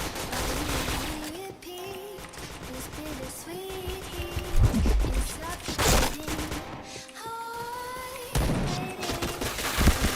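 Rapid bursts of gunfire from the online shooter Point Blank, dense and continuous with sharp cracks over a backdrop of game music and effects, with no clear talk.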